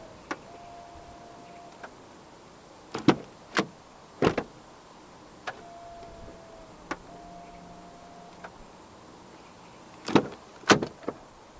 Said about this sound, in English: the front doors do have a self-close function